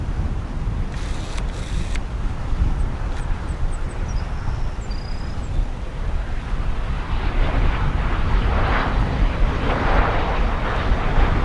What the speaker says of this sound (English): And then next we have another Embraer ERJ-145.